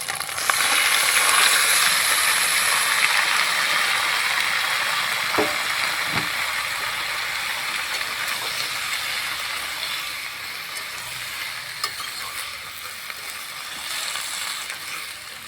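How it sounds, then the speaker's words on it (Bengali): Chopped tomatoes dropped into hot oil in a pan for a sweet chutney, a loud bright hiss of frying that starts strong and slowly eases, with a couple of utensil knocks against the pan. "কেটে রাখা টমেটো দিয়ে দিচ্ছি।"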